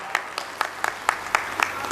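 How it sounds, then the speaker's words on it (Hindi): An audience at a musical Bhagavat Katha religious gathering claps steadily in a fast, even rhythm of sharp, close-sounding claps, loud and continuous with no talk over it. "जोरदार तालियों से स्वागत"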